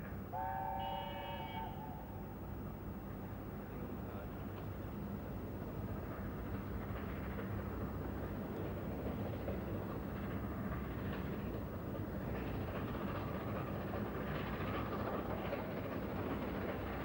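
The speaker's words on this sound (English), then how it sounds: "the once familiar sight of a steam express thundering past the suburban rooftops as it accelerates out of the city" A steam express train led by the locomotive Sir Nigel Gresley accelerates out of the city past suburban rooftops near Kilburn, opening with a short whistle blast and then a steady rumbling roar of wheels and exhaust.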